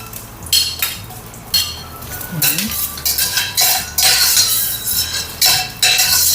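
Ginger hitting hot oil in a wok while braising chicken feet Tausi dim sum style, with bursts of sizzling and repeated metal spatula scrapes and clinks against the pan, close and fairly loud.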